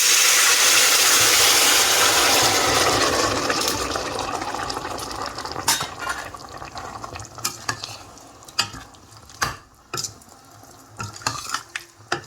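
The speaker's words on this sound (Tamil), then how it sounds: "நம்ம வேக வச்சு வச்சுருந்த கூட்டும் பருப்பையும் வந்து ஆட் பண்ணிக்கலாம்" Thick cooked lentils splash and sizzle as they are poured into a hot pan of okra curry, then settle into quieter bubbling with occasional clinks of a utensil.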